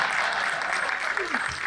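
A Hindi comedy poetry show audience claps steadily in a dense, continuous wash of applause, with a voice briefly sounding underneath toward the end.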